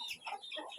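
Laying hens cluck in short, high, nasal bursts, several quick calls in a row heard fairly close and clear, with no talking.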